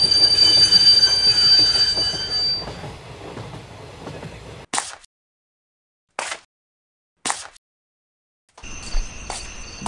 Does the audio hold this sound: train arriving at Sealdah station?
yes